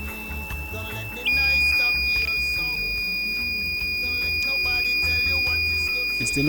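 The alarm of a microcontroller-based water-saving system for a home shower starts after about a second as a steady, piercing electronic tone. It holds unbroken to the end over quieter background music.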